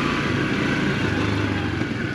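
An AJS Tempest Roadster 125 motorcycle riding over cobbles, its small engine a steady, dense drone mixed with broadband rumble and wind, loud and continuous throughout, with no talk.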